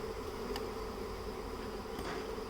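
Honeybees swarm and buzz steadily around free flow hives on a farm, a dense, continuous drone that stays close and even throughout with no voices.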